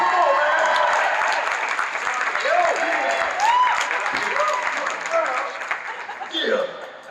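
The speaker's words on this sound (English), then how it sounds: "Clap it up for Kenny." A convention panel audience applauds with a steady, dense wash of clapping and crowd noise, while a voice calls out loudly over it through a microphone.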